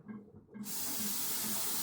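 Water is added to a pot of cooking rice, and a quiet start with a low hum gives way to a sudden, steady, loud rushing hiss that lasts to the end.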